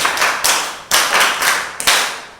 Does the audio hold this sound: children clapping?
yes